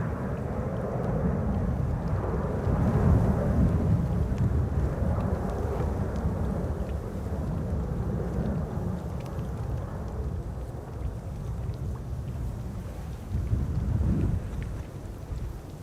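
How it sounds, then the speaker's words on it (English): A Cathay Pacific Airbus A350-1000 departs Schiphol's Polderbaan runway 36L bound for Hong Kong, a steady broad jet roar held at a constant level from a distance, blended with wind buffeting on the microphone. "Cathay Pacific, flight 270 to Hong Kong, the A350 1000."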